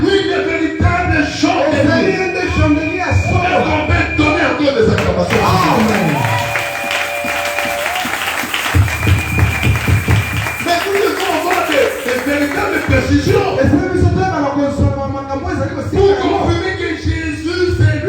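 A church congregation at a Tabernacle feast service claps and acclaims, a dense, sustained burst of applause and voices mixed with music and talk, rising and falling over several seconds.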